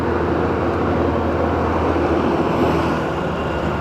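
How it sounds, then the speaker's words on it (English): A huge tractor drives past with a loud, steady low engine rumble and broad mechanical noise that holds throughout. "There's a huge tractor going."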